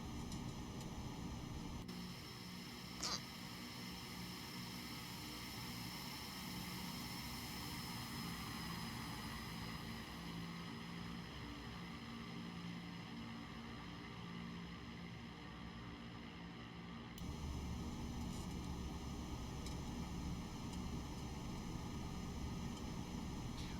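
Twin turboprop engines of a Beechcraft King Air C90B in a flight simulator, a steady droning hum while taxiing, with a brief click partway through and a slight shift in tone toward the end.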